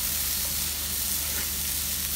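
Red amaranth leaves with chana sautéing on a high flame, a loud, dense and steady sizzle that fills the whole clip with no talk or distinct strokes.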